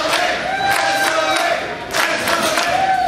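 A rowdy crowd at a Twin City Wrestling show roars and cheers in swelling bursts, a loud dense wall of voices that dips briefly before surging again.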